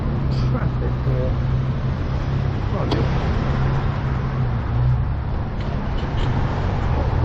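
Road traffic rumbles steadily around a car on a rainy drive from the New Forest toward Swanage, a continuous low engine and tyre drone with faint passing vehicles, and a person speaks over it.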